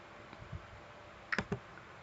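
A computer mouse gives a few quick, quiet clicks nearby, a couple of soft taps followed by a tight cluster of sharper clicks, in an otherwise quiet room.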